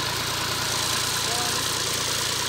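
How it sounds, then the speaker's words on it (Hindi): A tractor stuck deep in the ground runs with a steady, even engine drone at moderate level, with faint voices underneath. "ट्रैक्टर जो है हमारे वाला वो पूरी तरह से जो है ज़मीन के अंदर फंस गया हुआ है"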